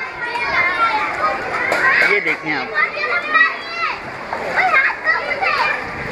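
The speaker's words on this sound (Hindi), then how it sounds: "ये बच्चे इस गंदे पानी में से गुजर कर जा रहे हैं" Children wade through dirty floodwater in an unpaved lane of Baldia Town, Karachi, with shrill young voices and scattered splashes running throughout while someone talks close by.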